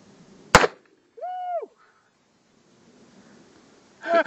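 A single sharp, close blast comes from a Ruger Super Alaskan Redhawk revolver in .454 Casull firing a heavy load. It is followed by a brief whistling tone and then another loud burst near the end.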